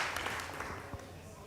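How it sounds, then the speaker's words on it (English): An audience at a Bhaktivedanta Manor gathering applauds the children, with dense, steady clapping heard at moderate level throughout the short stretch. "can we give a round of applause to the kids first?"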